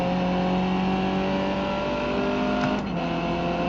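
A McLaren race car engine in the racing simulator iRacing, holding a steady loud drone with a brief dip and shift in pitch near the end, with no talk.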